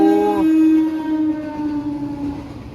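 A Vande Bharat high-speed train horn blares with a steady multi-tone chord, shifting in pitch early on, while a rumbling rush of the approaching train builds underneath.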